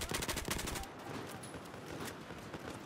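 Rapid automatic fire from an MTAR rifle in Battlefield 4 during a large 32v32 Conquest match: a dense burst of shots for about a second, then scattered distant gunfire and battle noise continuing underneath.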